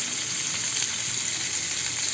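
Galunggong (round scad) fish fry in a nonstick pan with a loud, steady, close sizzle that holds without a break and has no talk over it.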